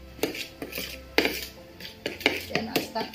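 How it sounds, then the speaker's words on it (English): Apple yoghurt cake batter being mixed with flour in a bowl, giving a series of close, irregular scrapes and clinks of utensil against the bowl, about a dozen strokes with short pauses. "slowly mix in the flour just to get back the smooth consistency"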